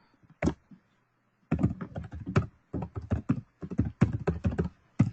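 Keystrokes on a computer keyboard during an online webinar come in quick, close bursts of clicking taps separated by short pauses, with no talking over them.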